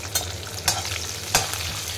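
Cumin, curry leaves, green chilli and raw peanuts fry in hot oil with a steady crackling sizzle, broken by a few scraping stirs of a spoon, close and alone.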